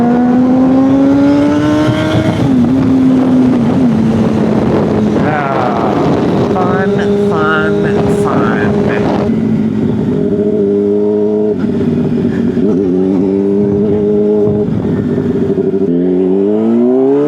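A super-sport motorcycle engine passes at speed, loud and close, its whine climbing, dropping and swelling again as it speeds up and shifts gears over about seventeen seconds of continuous roar.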